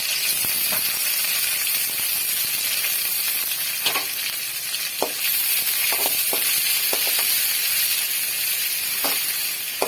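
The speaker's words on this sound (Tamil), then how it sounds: "நல்லா வதக்கிக்கலாம்" Onions and curry leaves sauté in a hot pan for an egg and drumstick-flower stir-fry, giving a steady bright sizzle broken by a few sharp crackles and stirring clicks, close and with no talk.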